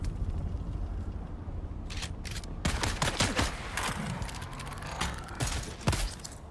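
SMG fire in the Dune: Awakening game comes as sharp rapid bursts and clustered shots, close and punchy over a low background rumble.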